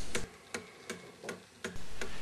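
A handmade wooden mechanical clock with an epicyclic movement ticks in a steady, even beat of six crisp clicks, close and alone.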